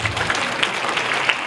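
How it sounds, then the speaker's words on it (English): Symposium attendees clap for an organizing student club in a brief, even burst of applause from a crowd. "give them a big clap to them."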